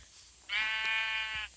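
A single Minecraft sheep lets out one clear, nasal bleat of about a second, close and alone against quiet background.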